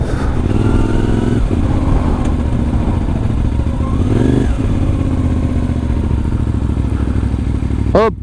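A CF Moto 450MT motorcycle on a road ride, its engine droning steadily and loud throughout with wind rush, a brief rise in revs midway and a short sharp sweep near the end.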